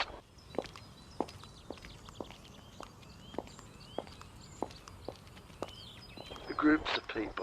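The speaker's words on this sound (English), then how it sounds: "Shoes that sound like flip-flops." Footsteps on a footpath from shoes that slap like flip-flops, a loose run of light, evenly spaced steps passing nearby, with a brief louder burst of activity near the end over a quiet outdoor background.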